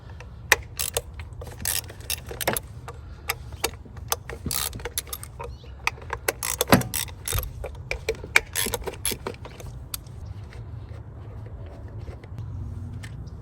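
Ratchet clicking in quick bursts while removing screws on a Mercedes R230 SL55 AMG M113k engine, sharp close metallic ticks scattered over a low background hum.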